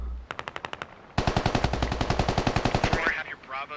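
Video game gunfire in a tactical squad shooter, heard as a short burst of about eight rapid shots followed by a longer, louder automatic volley, with a voice coming in at the end.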